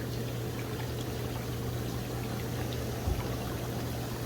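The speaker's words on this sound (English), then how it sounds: "this is like sucking water in" Water is drawn in with a continuous rushing, gurgling suction that stays steady and close throughout, with a low hum underneath and no voices.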